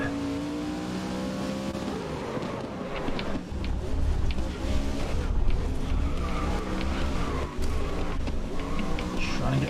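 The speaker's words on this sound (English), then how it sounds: "they slide out quite a bit." Vehicle sliding and skidding in the racing video game GRID, a steady loud engine roar with tire scrub running throughout, with a voice talking over it much of the time.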